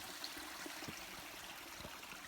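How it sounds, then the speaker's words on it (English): A small creek on a large rural property tract flows near a natural waterfall, giving a steady, close rush of running water with faint trickles and no voices. "found this gorgeous natural waterfall area"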